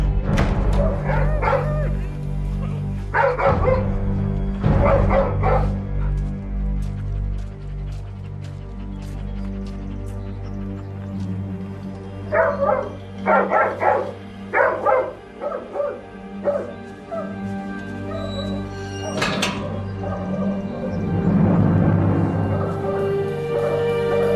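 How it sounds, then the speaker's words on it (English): A dog barks repeatedly in bursts of two or three, with whimpers and yips between, over a steady low background hum. "He's barking like crazy."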